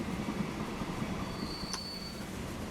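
Trains roll steadily through a Transport Fever 2 rail scene, a continuous rumbling drone of railcars with a brief high metallic wheel squeal cutting in midway.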